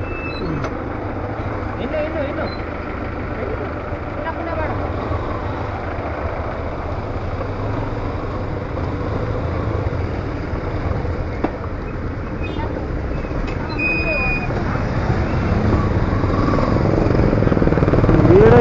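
Trucks and other vehicles idle and rumble in a jammed road, a steady low engine drone that grows louder toward the end, with faint horn-like tones and voices talking over it.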